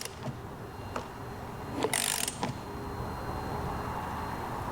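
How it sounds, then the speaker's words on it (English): Ratcheting wrench clicks on a Vespa P200 flywheel nut, several sharp metallic clicks in an uneven rhythm with a louder clattering burst midway, close up over a soft background hiss. "go ahead and tighten the flywheel"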